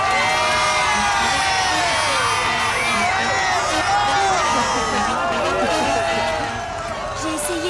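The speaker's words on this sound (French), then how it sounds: "Applaudissons nos valeureux champions et laissons-les se reposer." A crowd of children and adults cheers, whoops and shouts for street football champions, loud and continuous, with excited voices calling out over the noise.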